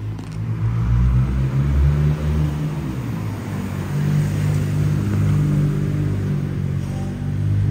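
A Nissan GTR R33 rolls past outside a car showroom with a steady, loud engine rumble that swells and holds, close by and with no talk over it.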